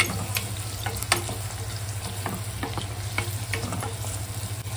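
Onions for yakhni pulao sauté in a hot pan with a quiet, steady sizzle, broken up by intermittent scrape-and-stir clicks of a spoon. No one speaks.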